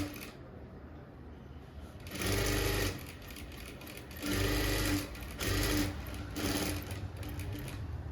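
A sewing machine stitches a blouse neckline in three short motorized bursts of rapid needle chatter, separated by quieter pauses over a low room hum.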